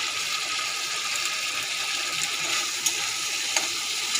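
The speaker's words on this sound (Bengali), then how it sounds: "এবার আমি বাটিটা ধুয়ে একটু জল দিয়ে দেবো" Water from a rinsed spice bowl is poured into a pan with a continuous close hiss and splash, plus a couple of small clinks, with no voices.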